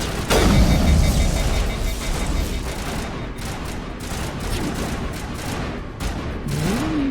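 Video game gunfire from Mass Effect Legendary rattles in dense, rapid bursts and volleys that carry on almost without pause, loud and close, over a rumbling backdrop.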